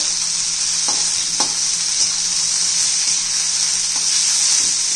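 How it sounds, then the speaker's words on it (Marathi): Capsicum and onion sauté in a pan, a loud, steady close sizzle with a few soft stirring knocks now and then. "अशी शिमला मिरची जास्त शिजवायची नाही आपल्याला, 2 इंच पण फक्त कच्चेपणा घालवायचा आहे कांदा ट्रान्सपरंट होईपर्यंत।"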